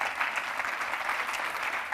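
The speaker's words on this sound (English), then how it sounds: "A big applause for her." Conference audience at a pitching competition in Lisbon breaks into steady applause, a dense even patter of many hands clapping throughout without pause.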